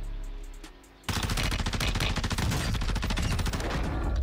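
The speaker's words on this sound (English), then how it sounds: "Someone's shooting over him to the right here." Rapid automatic gunfire erupts after a quiet second in the Warzone 2 video game, a sustained, loud, tightly spaced burst of shots that keeps rattling to the end.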